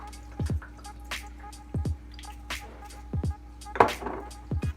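Soy sauce poured into a cooking pot of pork lo mein, landing in a series of distinct drippy splashes at uneven intervals, close and moderately loud, with no voices.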